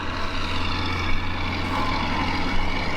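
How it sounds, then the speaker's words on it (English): Steady low engine drone of a passing tractor, moderately loud and continuous, with a slight swell as it goes by. "There is a tractor going by, so ignore that sound right now."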